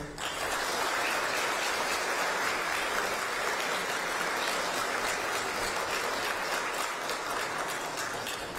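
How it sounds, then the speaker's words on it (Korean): Sustained, dense audience applause at a political campaign rally in Incheon, a steady roaring wash of many hands clapping at an even level from start to finish. "박수 주시죠."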